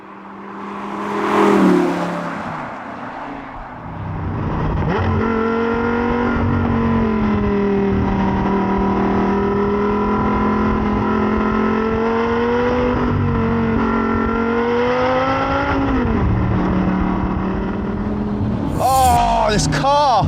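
A sustained Audi R8 engine note holds steady from about five seconds on, with pitch rising and dipping as it revs, loud and close. Brief handling noise comes before it and a short sharp sound follows at the end.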